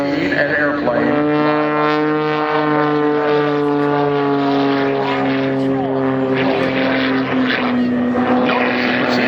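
An aerobatic propeller airplane weighing 1,300 pounds performs at an airshow at Lehigh Valley International Airport, its engine droning loudly and steadily with a shifting pitch, and a voice talking over it.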